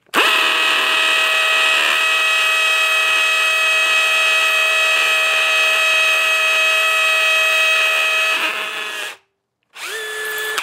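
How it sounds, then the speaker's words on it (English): A power drill bores into concrete steadily with a loud, high whine for about nine seconds, stops briefly, then starts up again. "So let's go ahead and drill it."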